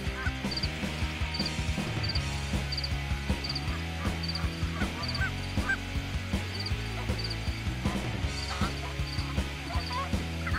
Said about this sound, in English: Off in the distance, you hear that faint honk.